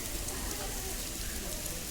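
Heavy rain falling at the University of Peradeniya, a thick, constant hiss of drops spattering on surfaces that stays steady throughout, with talking nearby beneath it.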